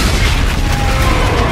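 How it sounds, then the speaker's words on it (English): A loud, close explosion in Call of Duty: Infinite Warfare fills the whole moment with a heavy, sustained low-end roar and rumble, without a sharp separate attack. "Good old explosion."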